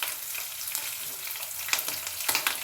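Green chilies sizzle in hot oil in a pan for avalakki upma, a steady bright crackling fry with a few sharper pops near the end.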